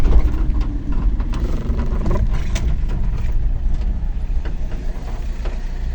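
A car drives along at the end of the workday, its steady mid-pitched engine drone continuous and close for the whole stretch, with slight rises in engine tone as gears change and no talking.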